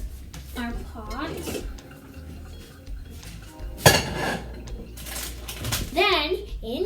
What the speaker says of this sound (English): And then we put our pot.